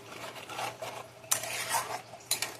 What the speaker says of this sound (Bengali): এবার এটা ভালো করে নেড়ে দেবো,